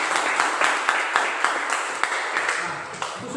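Applause for a student group in a classroom lesson, a small crowd clapping steadily and fairly loudly with irregular sharp claps standing out, with no voices.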